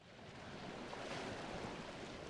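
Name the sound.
blizzard wind in Never Alone video game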